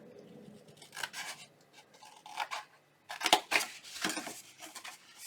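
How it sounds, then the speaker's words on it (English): Scissors cutting through a paper milk carton with uneven snips and rasping slices, close and fairly faint, pausing between cuts. "Cut right along the lines."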